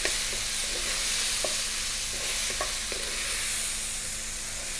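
Paprika, oregano, chili, cumin and black pepper sizzle in a hot pan, a loud, steady hiss of frying with a few soft scraping taps of a utensil stirring through, close up and without any voices.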